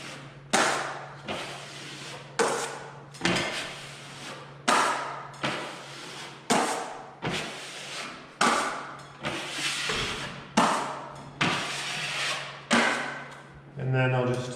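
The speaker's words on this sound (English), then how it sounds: "Now I'll just continue wiping." A drywall knife wipes mud across a butt joint in repeated scraping strokes, about a dozen sharp, close swipes in a regular rhythm with a low hum underneath.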